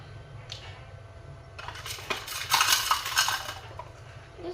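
Metal utensil scraping and clinking against a dish while food is stirred and mixed, a busy burst of clatter in the middle that quiets toward the end, close and fairly soft.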